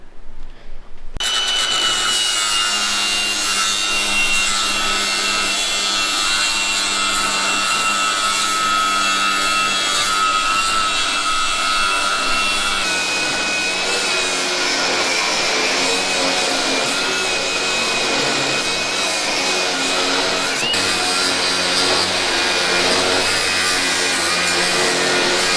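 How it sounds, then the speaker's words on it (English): A cutting tool slices welds off the cross member of an old truck, making a steady, loud grinding and rasping that runs nearly unbroken for the whole stretch, with no talk. "So I'm gonna go ahead and cut all my welds off"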